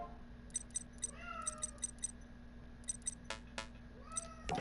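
Short game cat meows in a Yugioh 5Ds duel, a string of quick, faint chirpy calls with a few separate bursts over steady low background hum.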